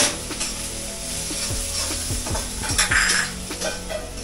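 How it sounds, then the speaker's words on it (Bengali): Food sizzles and is stirred in a camp kitchen, with rapid metal clatter and scraping of utensils against pots close at hand over a continuous frying hiss. "এই সাইডে কিচেনে রান্না হচ্ছে, দাদারা রান্না করছে।"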